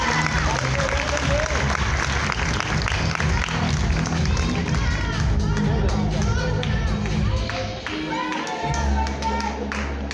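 Sustained applause from a graduation ceremony audience, loud and continuous clapping from a large crowd with cheering and babble mixed in, dipping briefly near the end before swelling again.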